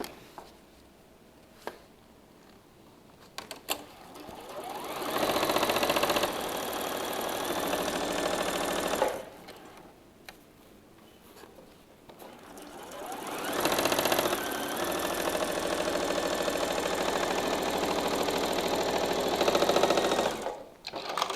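A sewing machine stitches quilt fabric strips together for rail fence patchwork blocks in two long, steady mechanical runs, with quieter pauses between them and at the start.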